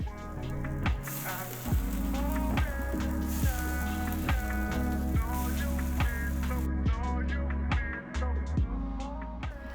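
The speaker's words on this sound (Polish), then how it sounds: "Nie bójcie się smażyć na tłuszczu." Thai pancakes fry in fat in a crepe pan, a steady sizzle with regular sharp ticks and clicks and a constant background hum, no speech.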